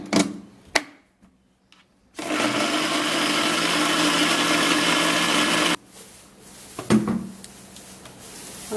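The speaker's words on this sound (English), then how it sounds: "So I'm gonna be blending it with the same blender." A kitchen blender whirs loudly for about three and a half seconds as it blends banana and egg, with clattering handling noises before and after the steady motor run.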